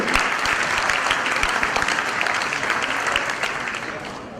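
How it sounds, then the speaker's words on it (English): A crowd at a Sahyog Foundation awards ceremony breaks into a loud, dense round of applause that holds steady and then begins to taper slightly toward the end. "a loud round of applause for all of you"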